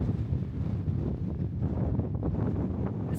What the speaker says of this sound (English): This wind is sucking every drop of moisture from my body.